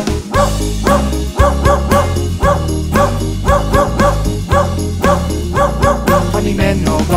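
Rhythmic dog-style barks punctuate a loud, bouncy Czech children's song about a farmer's dog named Bingo, repeating in steady groups over a bass-heavy musical backing.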